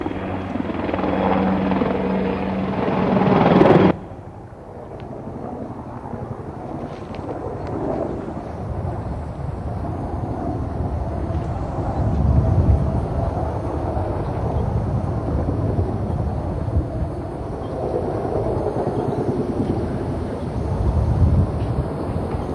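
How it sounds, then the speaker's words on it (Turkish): Helicopter rotor noise drones steadily overhead after a loud burst at the start, a deep continuous thrumming with wind buffeting the microphone throughout. "Helikopterlerin sesi de şu anda ekranlarınıza"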